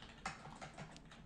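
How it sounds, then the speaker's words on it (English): Quick, soft typing on a computer keyboard as a web address is entered, a short burst of close key clicks with no talking. "You can just type that in right there"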